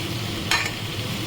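Vegetables and fish cook down for a light curry in a pan, a low steady frying hiss with two quick spatula scrapes close by.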